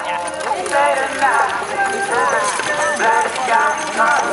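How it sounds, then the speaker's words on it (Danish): Belgian draft horses trot at an agricultural show, their hooves clip-clopping in a steady, overlapping rhythm at moderate distance, mixed with an announcer's amplified commentary and crowd noise. "mange af de heste, som I ser her, dem her"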